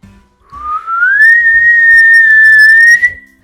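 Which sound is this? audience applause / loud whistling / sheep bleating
loud whistling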